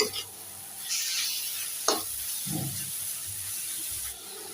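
Boiled cabbage frying in a pan with onion, garlic and chilli: a steady low sizzle with a few scraping stirs of the spatula, close and continuous, no talking.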